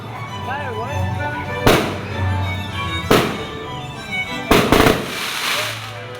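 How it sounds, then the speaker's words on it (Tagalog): Fireworks going off outdoors in Santolan, Pasig, three loud sharp bursts spaced a second or so apart with a crackling double burst near the end, under background chatter and a voice. "Fireworks? What is that? Fireworks?"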